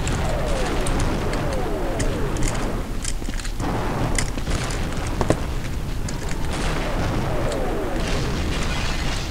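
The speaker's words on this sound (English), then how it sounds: "Are they bombing?" Bombing explosions in Half-Life, a continuous barrage of booms and bursts at steady high loudness that fills the whole stretch, dense and rumbling, with almost no voices over it.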